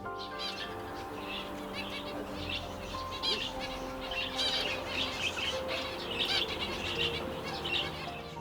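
Finches in an aviary keep up a busy, continuous twittering of high chirps, mixed with light wing flutters, at moderate distance and volume.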